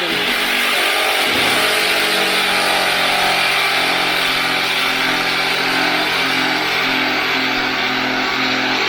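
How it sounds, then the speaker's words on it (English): An angle grinder cuts bondo off the fender of a 1976 Camaro, producing a loud, continuous whine with a steady pitch that holds for the whole stretch after a brief start. "I'm going to take this grinder here"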